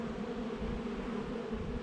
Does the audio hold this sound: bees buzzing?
yes